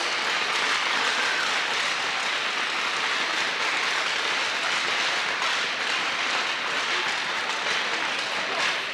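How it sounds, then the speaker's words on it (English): Crowd at a girls hockey championship game applauding the player coaches, a dense steady wash of clapping that fills the whole stretch at an even, loud level. "you guys started clapping too soon"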